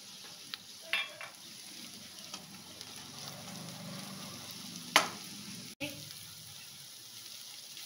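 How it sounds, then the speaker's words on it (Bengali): Grated ginger and softened onions fry in a pan with a soft, steady sizzle, broken by a few close utensil scrapes and taps against the pan. "আদাটাকেও একটু নেড়ে নিলাম।"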